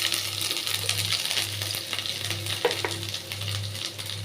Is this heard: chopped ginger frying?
yes